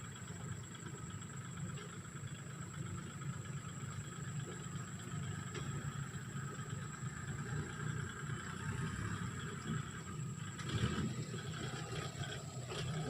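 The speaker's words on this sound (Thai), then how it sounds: "ลุงกำลังเอารถไถออกมานะพี่น้องเนาะ" A farm tractor is driven out at rice fields, its low engine chugging steadily and faintly at some distance, with a constant high whine and outdoor background noise throughout.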